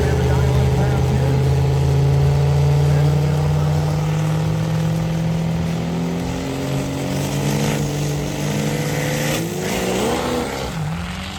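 A truck engine roars steadily at high revs during a dyno pass at the UCC event, a loud, sustained drone that sweeps down in pitch near the end, with people talking over it.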